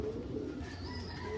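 Domestic racing pigeons in a breeding loft coo steadily at close range, with low murmuring tones running through the whole stretch and no talking.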